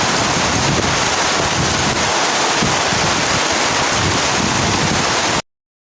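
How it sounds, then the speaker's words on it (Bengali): Heavy rain pours down outdoors in Bengal as a dense, constant roar that stays loud and even from start to end, then cuts off abruptly, with no voices. "বাইরে বৃষ্টি হচ্ছে প্রচুর"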